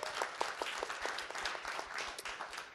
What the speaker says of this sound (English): warm round of applause to Steve.